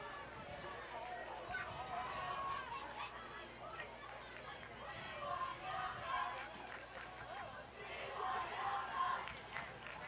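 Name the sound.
football crowd cheering at the game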